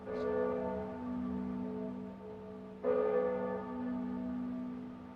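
Bells struck in a video game ring out twice, each hit a resonant clang that lingers and slowly decays, the second a few seconds after the first, fairly soft over a low drone.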